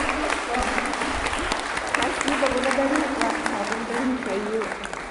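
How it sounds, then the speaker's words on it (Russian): Steady, dense applause from an audience at a seminar in Moscow, sustained throughout with a few voices audible beneath the clapping. "аплодисменты Творцу"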